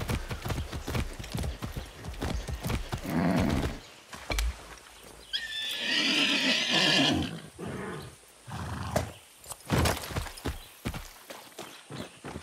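In Far Cry 6, horse hooves clop in a steady rhythm, and a loud whinny rings out partway through before the hoofbeats carry on.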